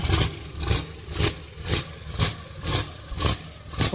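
A loud European boat turbo diesel idles with a rough, pulsing beat, with strong evenly spaced thumps about twice per second, close and heavy.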